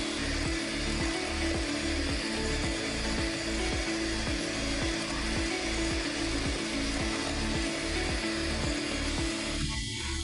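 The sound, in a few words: electric mixer whisking egg whites with sugar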